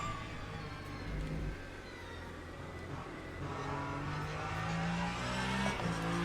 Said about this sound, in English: I think the way to drive this hypercar better is just to drive the car out the corner on throttle